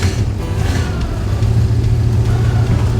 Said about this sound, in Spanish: Frena bien. Acelera bien.